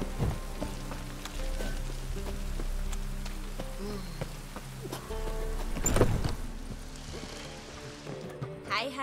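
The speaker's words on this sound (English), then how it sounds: "Witches have conjured rain." Rain conjured by witches falling in The Witcher 3 game, a steady patter on surfaces with occasional horse hoof clops and a sharp gust, heard beneath in-game dialogue voices.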